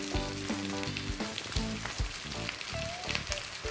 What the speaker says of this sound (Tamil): தேங்காய் எண்ணெய்ங்கிறனால இந்த மாதிரிலாம் அப்படியே பொங்குது